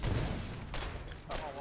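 Squad of players in the war game Foxhole firing their guns together in a volley, a dense burst of blasts at the start followed by two more sharp shots, with voices under the gunfire.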